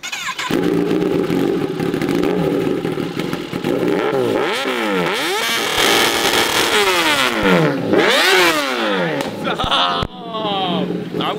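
A Kawasaki Ninja ZX-10R motorcycle engine revs hard and loud in repeated rising and falling bursts, roaring close by, with voices talking underneath.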